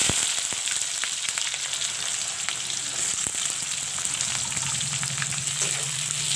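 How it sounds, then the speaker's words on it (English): Sliced onions and bay leaves fry in a pan for chicken jhol, giving a steady, close sizzle with light crackles and an occasional stirring scrape, with no talking. "Let the onions fry golden brown."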